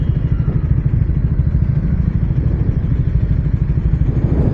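A motorcycle rides through road traffic, its mid-pitched engine throbbing with a steady, loud clattering pulse close by, unbroken and with no voices.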